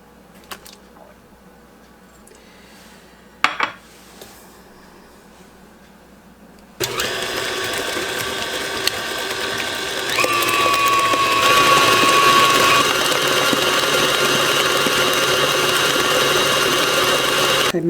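An electric mixer blends eggs into creamed cookie batter for malted chocolate cookies. After a quiet start with a few light knocks, it switches on abruptly and whirs loud and steady until the end, its pitch shifting slightly midway.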